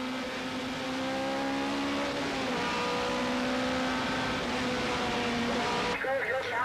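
Race cars at a 1989 Irish Motor Racing Club meeting in Phoenix Park, Dublin, heard as steady engine drones with a shifting pitch under continuous commentary.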